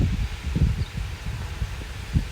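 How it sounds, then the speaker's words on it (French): Gusty west-southwest wind at 50–60 km/h rumbling across the microphone beside open fields, with rustling leaves, rising and falling in strong bursts. "Regardez les rafales."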